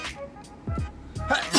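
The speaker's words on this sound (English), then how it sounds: "Why the fuck am I sneezing?" A single sharp sneeze bursts out close to the microphone near the end, after a few quieter breathy vocal sounds, during a casual indoor fast-food eating session.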